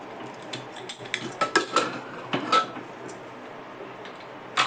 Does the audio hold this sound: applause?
no